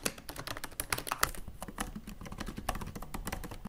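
Rapid typing on the full-size keyboard of a MacBook 12 laptop, a steady patter of close, crisp key clicks with uneven rhythm and no voices.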